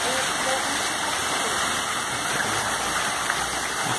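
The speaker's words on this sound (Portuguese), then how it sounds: "Ficou uma, duas, três, quatro, cinco quedas d'água." Steady rushing of several small waterfalls at a grotto, a constant loud wash of falling water filling the whole moment without change or voices.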